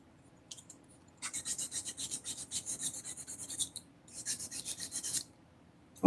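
A Kyosho RC motorcycle body is hand-sanded with quick rasping back-and-forth strokes in two close bursts, the first longer and steady, the second shorter, separated by a quiet pause, ending with a sharp knock.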